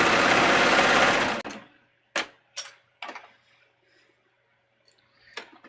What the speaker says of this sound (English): And then I'm going to serge these layers together.